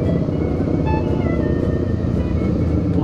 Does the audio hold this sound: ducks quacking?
no